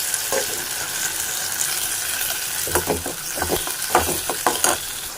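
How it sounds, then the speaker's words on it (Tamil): Tomato poured into a pan of lightly sautéed onions for mutton kuzhambu, frying with a steady sizzle and a burst of stirring scrapes and clatters partway through. "வெங்காயம் லைட்டாக வதங்கினோடனே ஒரு தக்காளி பழம் வச்சுருந்தோம் இல்லையா அதை உள்ளே ஊற்றிக்கலாம்"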